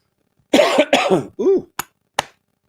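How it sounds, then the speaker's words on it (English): A close, loud cough fit: a few harsh coughs in quick succession, then two sharp single coughs, with silence around them. "I caught a cough."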